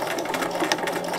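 Sewing machine stitching a placket seam on a T-shirt top, close to the seam edge; steady, fast mechanical whirring with a continuous rapid stitch rhythm, close and fairly loud, with no talking.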